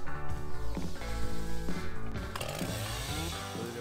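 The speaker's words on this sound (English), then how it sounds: "Then, cut out the shape roughly by chainsaw." A chainsaw roars close up, its engine pitch dipping and rising as it roughly cuts a curved shape out of a wooden beam, then easing off toward the end.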